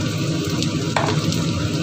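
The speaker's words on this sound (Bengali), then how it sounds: "পেঁয়াজটা ভাজা হয়ে গেছে, এবার এর মধ্যে আমি এক এক করে মশলাগুলো দিয়ে দেব" Spices are added to fried onions in a pan while cooking a fish-head curry with greens, and the oil sizzles and crackles steadily and close up, a continuous frying hiss with no one talking.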